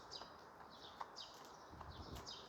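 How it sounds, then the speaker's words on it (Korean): Birds sing outside an apartment complex in the morning, with repeated high chirps and short whistled phrases coming every half second or so over a steady outdoor hiss. The calls are moderately near and fairly faint, with a few soft clicks between them. "저 새소리를 영상에 담고 싶어서"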